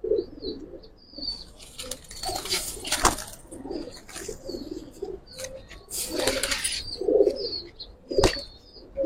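Pigeons in a loft coo in low, repeated phrases while sharp wing flaps break in several times, a busy close-up mix of calls and fluttering.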